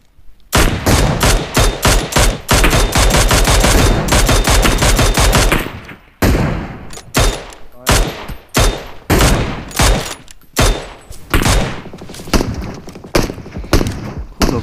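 Gunfire in PUBG Mobile: a long, rapid automatic burst of loud shots, then a break and more spaced, sharp volleys, all close and dominant.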